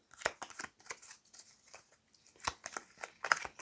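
Picture cards being shuffled by hand during a card-matching exercise, producing scattered short papery snaps and riffles, clustered at the start and again near the end, fairly quiet and close.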